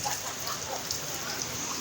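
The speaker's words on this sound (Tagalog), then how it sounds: "Talagang solid yung ulan." Heavy rain pouring down steadily, a dense, continuous hiss of drops drumming on surfaces nearby.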